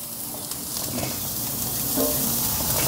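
Green onions and jalapenos crackle and sizzle on a hot grill, a steady close hiss with small pops that grows slightly louder toward the end.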